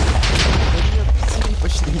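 Minecraft explosions go off in a loud, dense barrage of overlapping booms and rumbling blasts, continuous throughout, with people talking underneath.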